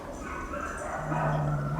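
A stressed cat at an animal shelter gives a low, steady growl that rises faintly in the second half, heard close over a murky room background.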